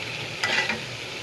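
Jackfruit seeds and small tengra fish fry with spices in a pan, giving a steady close hiss with a brief scrape of stirring partway through.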